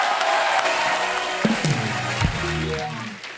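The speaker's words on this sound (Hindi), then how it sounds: "जोरदार तालियां हो जाए।" A studio audience on a Hindi comedy talk show claps and cheers steadily, a dense wash of applause with a few louder bursts, and a host's voice rises above it partway through.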